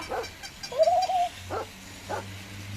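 A battery-powered purple toy dog gives a few short electronic yips and a brief whining tone, spaced across a quiet moment with no talking.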